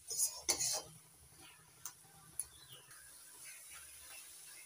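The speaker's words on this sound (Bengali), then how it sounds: "নারকেল কোড়ার সঙ্গে গুড় ভালো করে মিশিয়ে নিচ্ছি।" Grated coconut being stirred with grated date palm jaggery in a pan, giving soft, quiet scrapes and a few sharp utensil clinks against the metal, with long gaps of near silence between them.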